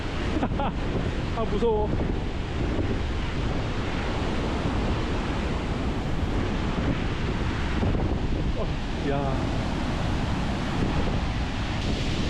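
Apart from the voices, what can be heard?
waterfall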